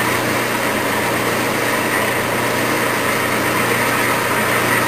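A Clausing metal lathe running under power while cutting a thread, a continuous steady motor hum and broadband machine noise, constant in level throughout with no talking.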